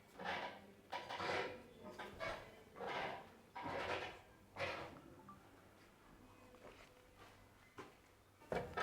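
Old wooden floorboards and fittings in a historic house creak and knock in a series of irregular, close groans and clunks with quiet pauses between them, no voices present.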